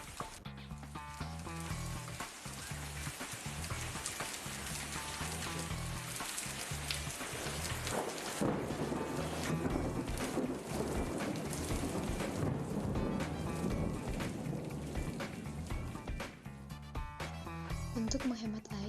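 Rain falling outdoors, a dense steady hiss of drops spattering on surfaces, fairly faint and constant, with occasional louder splashes and some muffled voices in the background.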